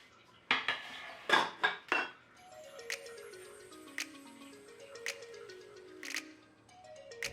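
Potato wedges are tossed in a bowl, giving a few sharp clinks and scrapes of utensil against the bowl early on, followed by quieter, widely spaced taps, close and alone.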